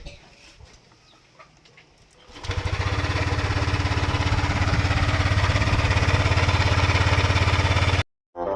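After a quiet start with some faint background sounds, a noisy, rattling Yamaha Aerox V2 motor scooter engine fires up and runs loudly and steadily with a rapid pulsing throb, then abruptly cuts out.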